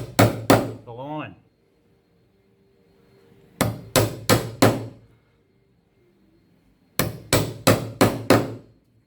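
Hammer blows on a chisel cutting pockets in an external stair stringer, in three groups of sharp, ringing strikes: two quick hits, then four, then five, close and loud with brief gaps between groups.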